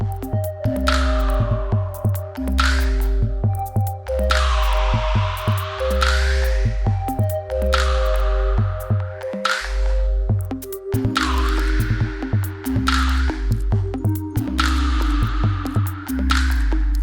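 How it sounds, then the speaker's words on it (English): An electronic DJ mix with reverb plays on, a repeating pulsing beat with steady low bass and sweeping high washes that swell and fade in regular bars, no voices. "one way that I'll introduce a reverb is by slowly introducing the high frequencies"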